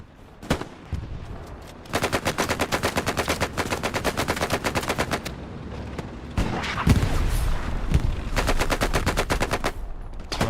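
Gunfire in the Hell Let Loose game during a competitive match, with dense rapid bursts of automatic weapons fire, loud and sustained, mixed with heavier booming shots and a few isolated cracks before and between the bursts.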